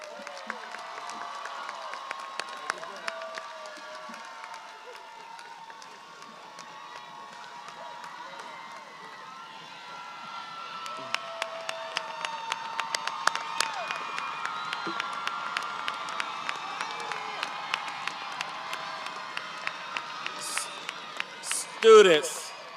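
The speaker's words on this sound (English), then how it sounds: "Let's give a round of applause to our graduates." A large crowd at a 2022 Columbia High School graduation ceremony applauds and cheers for a sustained stretch, clapping swelling in the middle, with scattered shouts and whoops.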